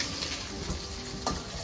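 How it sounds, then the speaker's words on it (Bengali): Eggs frying in a pan give a steady, close sizzle throughout, with a brief sharper clink near the end. "আমি হচ্ছে এখন হচ্ছে ডিম পোজ করতেছি, যতটুক পারতেছি মরিমের জন্য একটা, আমার জন্য একটা।"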